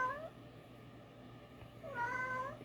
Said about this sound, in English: You hear this cat, man?